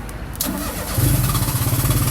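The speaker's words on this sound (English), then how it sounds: "this is how we start up the vehicle." A vehicle engine cranks briefly, then catches and settles into a loud, steady low idle with a rhythmic pulse, close by.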